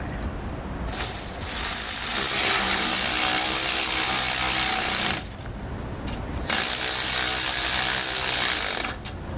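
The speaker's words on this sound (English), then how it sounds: "when you are tightening up your U-bolts, you want to alternate between the same U-bolt on the different legs" A ratchet wrench tightening U-bolts on a Roadmaster steering stabilizer bracket of a 2018 Forest River Georgetown motorhome, two long loud bursts of rapid clicking separated by a short pause, close and without talk.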